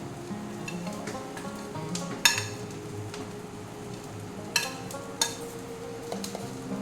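Tomato tipped into frying kohlrabi sets off a steady, close sizzle, punctuated by a few sharp clinks of a spatula against the pan.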